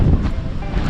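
A strong gust of wind blasts across the microphone, a dense low rumble filling the whole moment.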